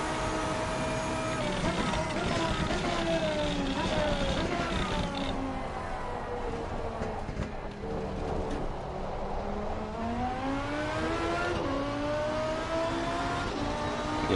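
A race car engine in the Assetto Corsa driving game, loud and continuous, revving up in pitch, dropping at a gear shift, then climbing again.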